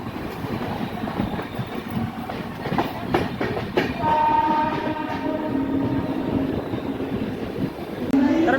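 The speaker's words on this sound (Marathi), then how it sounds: "आपली सिद्धेश्वर एक्सप्रेस पोहोचली आहे 9:12 कल्याण जंक्शनवर." The Siddheshwar Express rolls into Kalyan Junction with a steady rumble and clatter of wheels, punctuated by a sustained horn blast, while voices murmur on the crowded platform.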